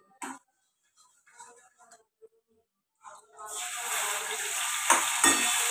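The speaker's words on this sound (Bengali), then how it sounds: "এখানে আছে পেঁয়াজ, আদা অ্যান্ড রসুনের পেস্ট। তো এইটা আমি এবার এতে দেবো।" Onion, ginger and garlic paste hits a hot pan partway through, setting off a bright, rising sizzle that stays loud and close after a few quiet clinks and soft sounds at the start.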